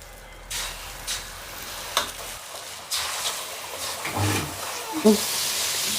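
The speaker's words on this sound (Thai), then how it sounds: "น้ำมันเดือดแล้วนะคะ เดี๋ยวเราจะเอาหมูที่ทาเกลือค่ะ ลงไปทอดก่อนนะคะ" Salt-rubbed pork goes into boiling oil to fry for crispy pork, a broad roaring sizzle that swells and stays loud and dense near the end, with a few clatters and handling knocks along the way.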